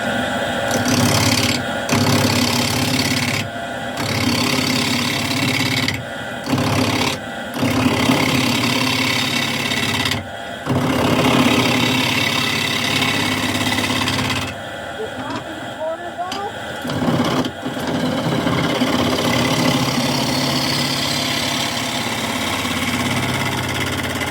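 A wood lathe turning a firewood bowl at 1,000 RPM runs with a loud, steady mechanical drone, broken by rasping cuts and brief dips, while a person talks over it.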